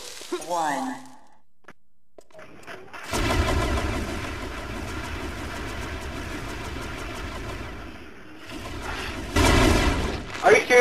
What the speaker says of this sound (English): Did I just kill you with that cannon?